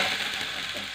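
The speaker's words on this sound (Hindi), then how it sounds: "हल्दी मेरी पक जाए इस तरीके से चलाते रहेंगे।" Turmeric frying in hot oil in a pan as it is stirred, a steady close hiss of sizzling that holds for the full moment.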